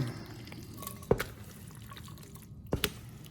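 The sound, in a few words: beanie weenie casserole mixture dumped into iron skillet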